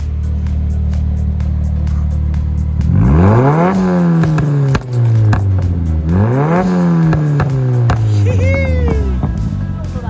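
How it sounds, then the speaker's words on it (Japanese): A Nissan Silvia S14 engine idles with a deep drone, then revs hard several times, the pitch climbing and falling in loud rising sweeps close by. "やっぱり吹かすとねいい音するもんね"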